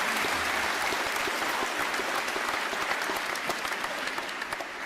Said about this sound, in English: please join me in giving veterans a well-deserved round of applause